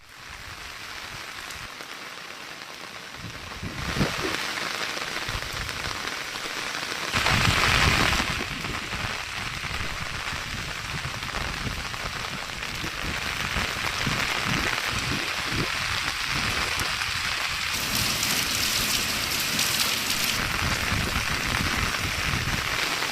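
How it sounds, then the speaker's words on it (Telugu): Heavy rain falls steadily during a cyclone's passage in Telangana, a dense continuous hiss that swells louder at moments, with no voices. "మహబూబ్ నగర్, నల్గొండ, పెద్దపల్లి జిల్లాలో భారీ వర్షాలు కురుస్తున్నాయి"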